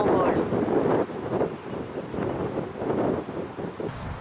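Strong wind buffets the microphone at Holes Bay Nature Park on a tidal shoreline in England, a loud continuous roaring rumble that swells and eases, with a voice talking faintly beneath.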